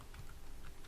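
Brief burst of typing on a computer keyboard while entering a blog post title, quiet rapid key clicks with no talk.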